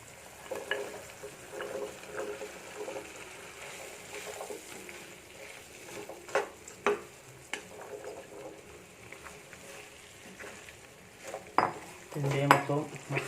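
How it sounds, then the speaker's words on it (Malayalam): Pieces of banana stem dropped into a pan of thick masala for pickle and stirred with a metal spoon, heard as soft sizzling under scattered spoon scrapes and clinks that grow louder and busier toward the end. "ഇനിയിപ്പോൾ ഇതിലേക്ക് പിണ്ടി ഇട്ട് കൊടുക്കാം."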